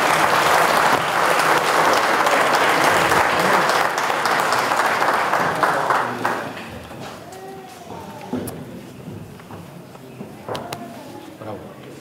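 Audience applause at the inauguration of a village cultural hall in Larga, Dofteana, loud sustained clapping from a crowd for about six seconds, then thinning out and fading to scattered claps under murmuring.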